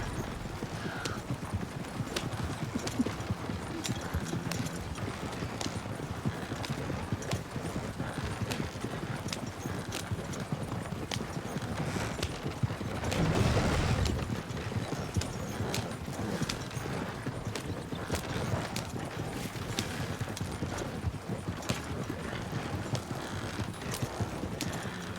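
Horse hooves clip-clop steadily as a horse-drawn stagecoach rolls along in a game setting, a continuous moderate rhythm with a faint rumble underneath and a brief louder swell midway.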